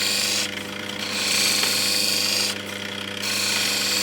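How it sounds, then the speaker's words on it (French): A finer grinding wheel steadily shapes an Ethiopian opal, a constant whirring hum with the pitch and rasp shifting as the stone is pressed on and eased off, close and without talk. "meule beaucoup moins agressive, permet d'affiner la forme de l'opale"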